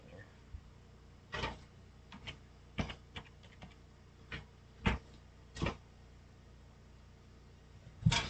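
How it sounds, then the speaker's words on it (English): Keys on a computer keyboard are tapped in scattered, uneven clicks and short bursts at a moderate distance, with gaps of quiet room tone between them. "Let me show it so I can see what I'm typing here."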